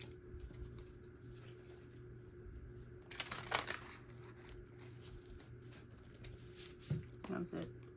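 Tarot cards being shuffled by hand make two short, soft riffling bursts, faint and close, over a quiet room hum with a low murmur of speech.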